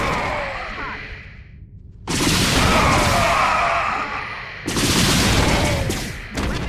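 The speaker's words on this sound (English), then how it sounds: "we're going to cloak our Banshees and engage them with our area effect missiles" Banshee area-effect missiles pound clustered Marines in StarCraft, giving bursts of loud booming blasts and crackling gunfire in two heavy waves with a brief lull between.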